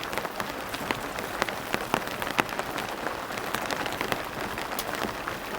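Heavy rain pours down during a storm at a freezing mountain campsite with an elevated tent, a dense, continuous patter of drops striking surfaces close by, with no talking.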